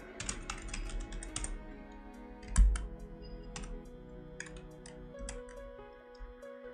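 Typing on a computer keyboard while coding in Visual Studio Code: quiet, scattered clicks and keystrokes in irregular bursts, with one louder thump near the middle, heard close and alone.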